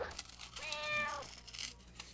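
A house cat gives a single clear, drawn-out meow close by, rising and falling over about half a second in a quiet room during a kids' Halloween drawing session, with faint background noise around it.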